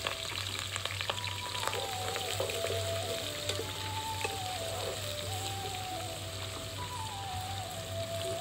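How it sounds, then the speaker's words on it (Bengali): Chopped onions fry in hot oil for a chicken gizzard and feet curry, giving a steady close sizzle and crackle with occasional stirring and a faint tonal whistle throughout. "পেঁয়াজটা যখন হালকা একটু ভাজা হয়ে আসবে"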